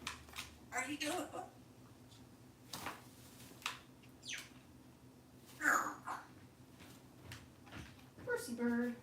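Pet cockatoo vocalizing indoors in short squawks and chirps scattered through the clip, close and fairly faint, interleaved with a person talking to the bird.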